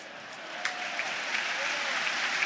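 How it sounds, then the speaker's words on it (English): Southampton fans applauding in a Premier League stadium during a match against Leeds, a steady wash of distant crowd clapping with a few sharper claps standing out. "are clapping away and enjoying their team's performance for the first time in a while"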